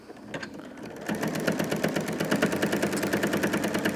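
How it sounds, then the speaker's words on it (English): A walking foot sewing machine stitches through a quilt, starting with a few soft clicks before settling into a loud, steady, rapid chatter of needle strokes up close. "I'm just going to get stitching here."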